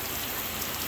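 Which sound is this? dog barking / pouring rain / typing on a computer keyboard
pouring rain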